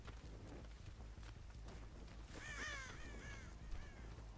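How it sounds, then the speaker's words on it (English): Crows caw in the video game Dead by Daylight, a short burst of several harsh calls at mid distance over a low ambient rumble and faint footsteps. "Someone disturbed the crows."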